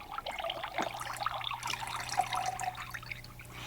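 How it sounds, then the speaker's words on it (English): Buttermilk is poured off freshly churned butter: a steady, soft trickle and splash of liquid that runs for several seconds, close and fairly quiet, with no talking. "Then you pour out the liquid on the top. That's buttermilk."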